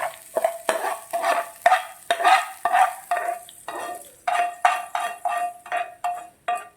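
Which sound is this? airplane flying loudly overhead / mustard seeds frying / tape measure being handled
mustard seeds frying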